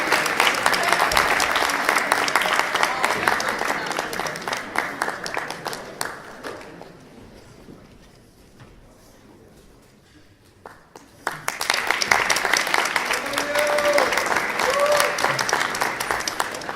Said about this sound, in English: Could you give a really warm round of applause for our first eliminated finalist, Ryu Katayama